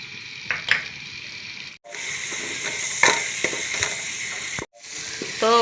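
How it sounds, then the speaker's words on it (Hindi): Ground onion frying in a pan, a steady loud sizzle with stirring scrapes and clicks, broken by two brief pauses. "ये प्याज मैंने पीस लिया है वो डालेंगे इसमें। अब हम इसको ब्राउन करेंगे।"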